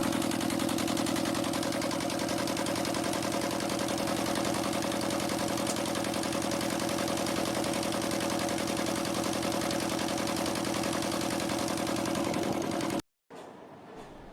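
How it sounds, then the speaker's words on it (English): A restored Gardner GL22 antique diesel engine runs steadily and close by, its even rapid exhaust beat continuing unchanged for about thirteen seconds before cutting off abruptly. "enthusiasts showcased a beautifully restored Gardner GL22, demonstrating its smooth operation and distinctive exhaust rhythm"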